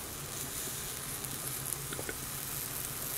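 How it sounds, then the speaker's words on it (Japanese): A pot of nabeyaki udon with egg gradually comes to a boil, giving faint, steady bubbling and light sizzling with occasional small pops, quiet and close, with no voices. "お徐々に沸騰してきてますね。"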